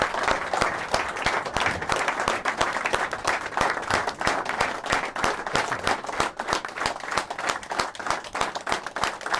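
A large audience gives sustained, dense applause to welcome Chief Justice Iftikhar Mohammad Chaudhry at a London event, steady and loud throughout with no voices over it.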